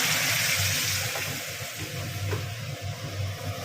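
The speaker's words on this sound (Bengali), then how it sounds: "একটু জল দিয়ে দেবো" Water splashes into a hot pan of frying spice paste, a sizzling rush that starts loud and settles into a softer bubbling simmer, with no talk.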